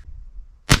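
A single .22 Long Rifle shot fired over a chronograph, one sharp loud crack near the end after a quiet stretch with a faint low rumble.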